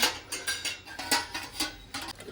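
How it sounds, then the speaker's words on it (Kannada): A child playing with steel kitchen pots and vessels, a series of clanking, rattling metal knocks in an uneven rhythm, close by, without talk. "ಎಲ್ಲ ತಂತಂದು ಪಾತ್ರೆ ಆಟ ಆಡ್ತೀವಿ"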